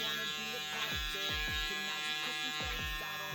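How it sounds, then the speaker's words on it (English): A TPOB Yeti hair clipper with a magnetic motor runs with a steady electric buzz, close and continuous, its pitch dipping in several short sags as the blade is loaded or held back. "This is a very powerful magnetic motor, you know."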